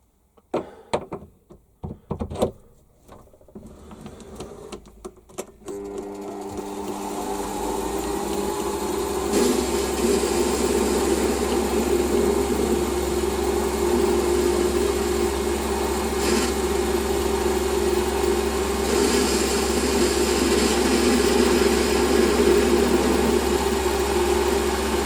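A Warco WM180 metal lathe facing off a workpiece: a few clanks and knocks, then the motor spins up and runs with a steady loud hum and machining whine for the rest of the clip.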